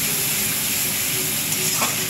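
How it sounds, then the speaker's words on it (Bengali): Tomato and spices sautéing in oil in a pan for a jackfruit and prawn curry, a loud steady sizzle with a brief scrape of stirring near the end. "এবার এটাকে আমি খুব ভালো করে একটু কষিয়ে নেবো 2 মিনিট।"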